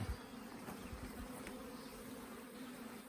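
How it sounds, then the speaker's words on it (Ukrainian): Bees swarming out of neighbouring hives at an apiary make a steady, faint buzzing drone that holds evenly throughout, heard from close by with no voices. "Рої з сусідніх вуликів, які ми оглядали три дні тому."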